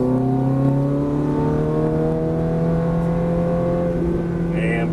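A Ferrari F430 accelerating hard out of a corner on a racetrack, its engine note climbing steadily in pitch, loud and close throughout with no break.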